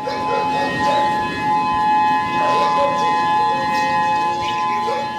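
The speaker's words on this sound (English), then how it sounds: "the city decided to sound the hurricane warning siren" A loud hurricane warning siren wails continuously with steady tones during Hurricane Lane in 2018, while softer background voices and noise drift underneath.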